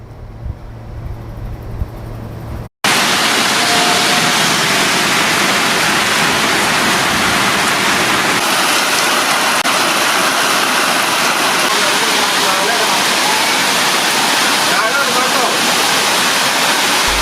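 Heavy monsoon rain pours in a dense, steady roar that stays loud and continuous after a brief quieter lead-in, like a downpour over a wide area.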